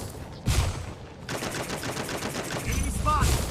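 Gunfire from the Free Fire video game rattles in rapid automatic bursts, loud and dense, with heavier shots near the start and end of a sustained volley.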